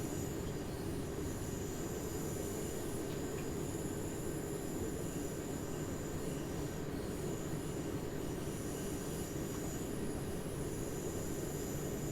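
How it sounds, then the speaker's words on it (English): A BR425 electric multiple-unit train in Train Sim World 3 runs steadily on the Bremen–Oldenburg line, with a continuous loud rumble of wheels on rails and a faint high whine, no talking. "Begin applying a small amount of braking force to bring the train to a gentle stop."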